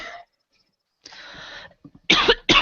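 A few rough coughs come from people recording a podcast, a brief burst, then a pause and a stronger pair of close, harsh coughs near the end.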